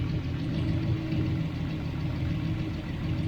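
A Triumph Stag engine with Stromberg CD175 carburettors idles reasonably steadily at close range, a continuous low rumble with a slight uneven pulse and no talk over it.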